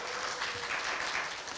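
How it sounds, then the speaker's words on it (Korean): A church congregation claps steadily for the whole short stretch, a dense wash of applause filling the hall without talk over it. "박수."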